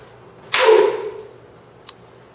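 A stage combat punch ends in a knap, a single sharp clap-like smack that decays quickly, followed by a faint click a second later in an otherwise quiet room.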